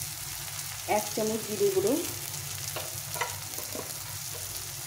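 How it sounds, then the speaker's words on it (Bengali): Onion and tomato frying in a pan on the stove, giving a continuous close sizzle while someone talks over it and a few utensil clinks come through. "এই টমেটোর পেঁয়াজটা ভাজা ভাজা হয়ে গেছে।"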